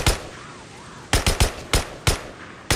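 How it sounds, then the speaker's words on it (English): Sniper gunfire in the Days Gone video game on PS4 Pro: about six sharp, loud rifle cracks come in an irregular sequence after a quieter first second, each with a short echoing tail. "Sniper ambush, oh goddammit."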